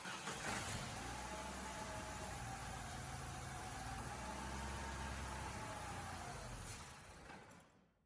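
A mini Dodge Dakota pickup's engine running steadily, a close, continuous mechanical drone that holds level for several seconds before fading away near the end.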